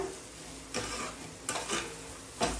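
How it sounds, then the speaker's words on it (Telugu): Carrot and semolina mixture with sugar frying in a pan, a soft sizzle broken by a few distinct scraping stirs of a spoon, close and quiet with no talking. "ఈ విధంగా మనం కొంచెం బాగా ఫ్రై చేసుకోవాలి"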